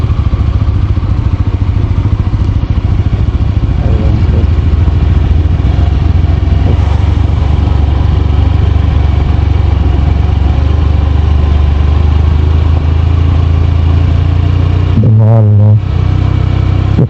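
A motorcycle in first gear creeps down a steep, dangerous hill road past Keokradong toward Sungsang Para, its engine droning close and steady under braking, with one brief dip near the end.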